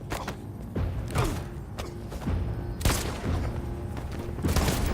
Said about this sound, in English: I think they heard the gunshot.